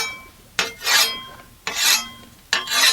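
A scythe blade is sharpened by hand, the stone drawn firmly down the edge in three separate rasping strokes, each a sharp scraping burst followed by a brief pause, close and clear with no talk.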